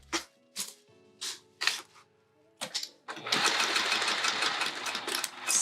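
A sewing machine stitching fabric with a 4 millimeter stitch, first in several short, separate bursts, then a longer continuous whirring run, close and fairly loud with no talk.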